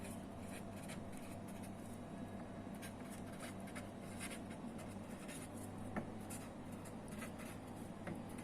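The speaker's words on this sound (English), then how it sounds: "So I'll just write down the statement and I'll draw a figure." Pen scratching on paper as a geometry statement is written and a triangle figure is drawn, a quiet, continuous series of short strokes close to the microphone.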